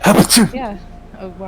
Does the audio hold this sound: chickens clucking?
no